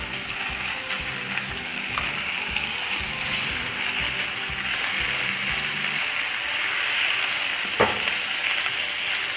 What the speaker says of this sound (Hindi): अच्छी तरह चिकन के कीमे को भून लेंगे ताकि स्मेल इसकी ख़त्म हो